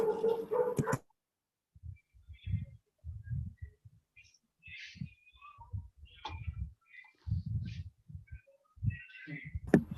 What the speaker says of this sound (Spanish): trataba de que el perro se calle, pero va a quedar grabado para la posteridad